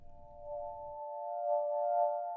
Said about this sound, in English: So the default sine wave, you can hear it going back and forth in the from the right and the left.